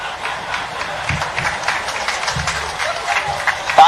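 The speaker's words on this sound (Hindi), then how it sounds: "तालियां क्यों बजा रहे हो?" A crowd at a political rally claps steadily, a dense patter of many hands heard at a moderate distance, with a speaker's voice coming over it.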